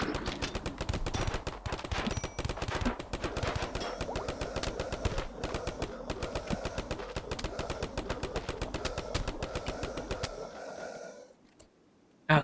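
A rubber bullet gun in a video game fires rapid bursts of repeated cracks for about ten seconds, then stops, leaving quiet with one sharp click at the end.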